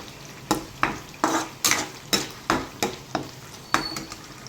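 A spoon stirring gravy with mint, coriander and kasuri methi in a pan, about a dozen evenly spaced scraping strokes, close and clear, over a faint sizzle with no talking.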